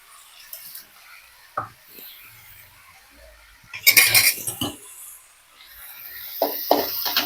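A spoon stirs pepper chicken with turmeric and salt in a pan, giving a few scattered metallic scrapes and clinks, with a busier burst of stirring in the middle and again near the end.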